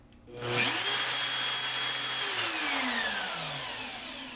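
A Mafell DDF 40 doweller motor spins up quickly to a loud, steady high whine, holds for about two seconds, then winds down gradually as it coasts to a stop; heard alone with no talk.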